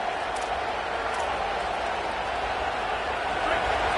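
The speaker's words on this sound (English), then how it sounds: "The roar of the crowd trying to fuel this defense to keep them pinned in their own end." Loud, steady roar of a football stadium crowd during an Indiana vs Oregon game, a continuous dense wash of cheering with no breaks over four seconds, likely with a commentator talking over it.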